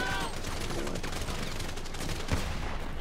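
Gunfire from the video game Grand Theft Auto V, a dense steady barrage of shots that stays loud for about three seconds, with one sharper blast near the end.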